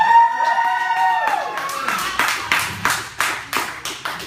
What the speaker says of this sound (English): Don't clap. Seriously.